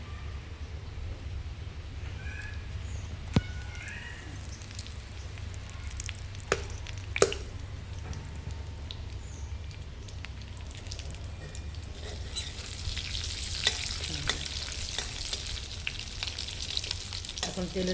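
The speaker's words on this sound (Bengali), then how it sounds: "তেজপাতা দিচ্ছি" Bay leaves dropped into hot oil give a steady low sizzle that crackles brighter toward the end, with a few sharp ticks and pops, quiet and close without talk.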